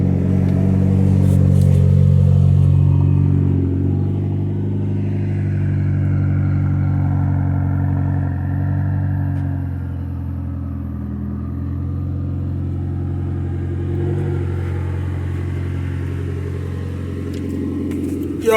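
A Nissan car's engine idling just after a cold start, a steady low rumble with a slightly elevated idle that gradually settles and softens, heard close and alone without talk.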